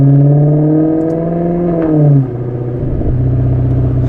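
A 2015 Maserati GranTurismo engine idles loud and close with a deep, steady harmonic drone, dipping and shifting in pitch as the revs change.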